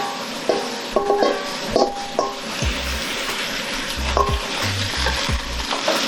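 Washed spinach dropped into a hot pan sizzles and crackles steadily, with scattered clinks and low thumps of handling, close and fairly loud with no talking.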